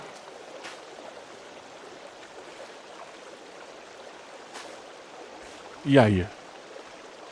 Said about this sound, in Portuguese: Aqui é água de rio, pô.